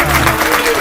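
Roaring applause in a voice-adventure audio story, a dense wash of clapping that fills the whole short moment with steady loudness, with some voice-like tones mixed in beneath it.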